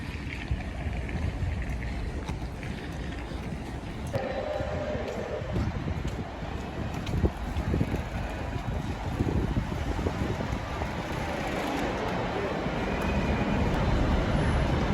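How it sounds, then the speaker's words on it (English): Steady broadband rumble and rushing noise of an Avanti passenger train in Liverpool, with wind buffeting the microphone throughout and a faint rise in loudness toward the end. "Nice Avanti train, this one."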